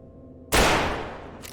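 A single heavy blast from the 1887 gun in Dead Matter, loud and close, with a long decaying tail and a faint second report near the end.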